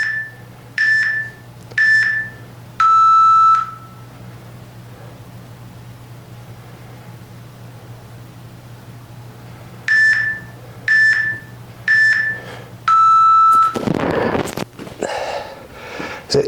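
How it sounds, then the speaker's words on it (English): Workout interval timer beeping in a 30-minute arthritis and injury exercise session, with two groups of three short beeps, each group ending in a longer tone, separated by a long quiet gap and followed by rustling. "You can wait till it beeps."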